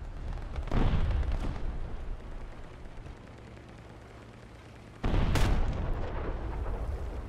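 Two heavy artillery booms in a tank video game, long-range artillery shells landing near a Sturmtiger Junior, each a loud broadband blast with a rumbling tail, separated by a few seconds of low engine-like drone.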